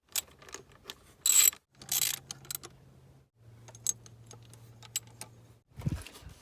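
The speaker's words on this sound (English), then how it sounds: "So now go ahead and tighten down these brackets to" A ratchet tightens T30 Torx bolts on the engine brackets of an R53 Mini Cooper S, giving close mechanical clicking in bursts between brief metallic clinks and pauses.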